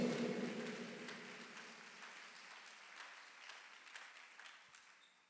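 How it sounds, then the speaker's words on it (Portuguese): A church congregation claps in a round of applause that starts fairly full and steadily fades over about five seconds, with a few sustained instrument tones lingering at the start. "Dê uma salva de palmas a Ele que é digno."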